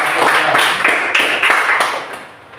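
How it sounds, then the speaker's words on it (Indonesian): Classroom applause for a student group, a dense burst of clapping that holds briefly and then tapers off, moderately loud. "sekali lagi tepuk tangan untuk kelompok"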